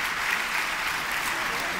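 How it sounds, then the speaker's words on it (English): A crowd at a university commencement ceremony applauds for school staff, with thick, continuous clapping filling the hall at a steady, fairly loud level. "Please, let's give them a round of applause"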